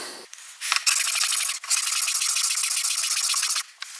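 Fresh sandpaper rasps against a wooden scraper plane body in long, loud, close strokes, a harsh steady scratching broken by a short pause partway through.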